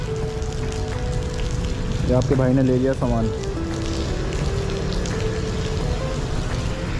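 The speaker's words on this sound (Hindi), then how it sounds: "भयंकर बारिश है एक हफ्ते की।" Steady heavy rain hisses throughout, with a voice speaking briefly in the middle, in Hindi.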